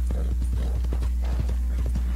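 Horse hooves clip-clopping in the video game Red Dead Redemption 2, a steady rhythmic trot of close, crisp hoofbeats over a constant low game hum.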